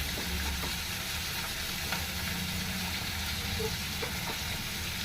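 Pesarattu, a mung bean dosa, frying on a pan with a steady close sizzle and faint crackles, continuous and even for several seconds with no talking.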